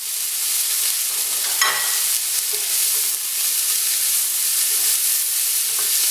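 Onion and garlic sizzle in butter in a pan for chicken kabsa, a steady close hiss with a brief stir partway through and no talk.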